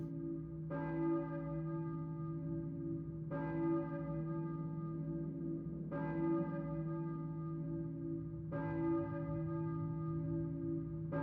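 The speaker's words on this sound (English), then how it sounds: "I hear a church bell." A church bell tolls four times at slow, even intervals, each strike ringing out with a long sustained hum beneath, heard in a Silent Hill game setting with no talking.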